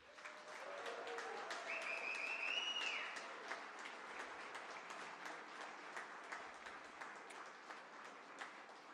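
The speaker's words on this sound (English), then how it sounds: "One last round of applause for our awardees" Audience at an alumni awards presentation applauding the awardees, sustained clapping that swells then settles into scattered claps, with faint tonal sounds early on.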